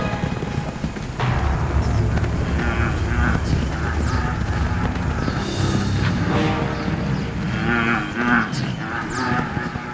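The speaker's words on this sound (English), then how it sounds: "the desperate mooing of a calf would go unanswered" A calf moos desperately during a long drought where lions hunt, giving repeated loud, strained bellows over steady low background rumble.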